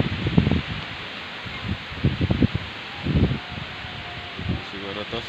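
Leaves rustle steadily in strong gusty wind in a hillside eggplant garden, a continuous hiss of foliage with muffled voices murmuring low underneath.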